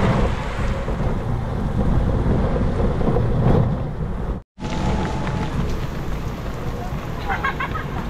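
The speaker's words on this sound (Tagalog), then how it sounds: "Pabugso-bugso kasi yung ulan" Rain shower falling steadily with heavy wind-buffeted rushing and low rumbling, cut by a brief dropout before the downpour resumes; a voice is faintly present under the noise.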